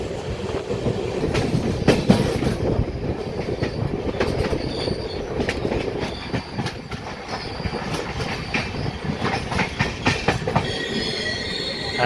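The Satavahana Superfast Express pulls out of Mahabubabad station, heard from inside as a dense rumble with repeated clickety-clack of wheels over rail joints and sharp metallic squeals, steady and close throughout.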